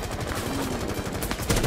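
Gunfire in Rainbow Six Siege, rapid close bursts of automatic shots crackling continuously and loudly across the short moment, with no voices over it.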